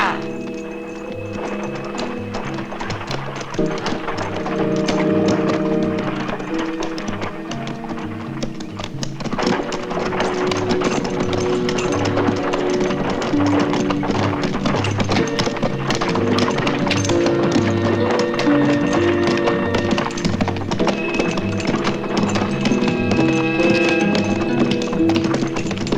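Horses pulling a cart in a western film, a steady clip-clop of hooves running under music and a speaking voice throughout.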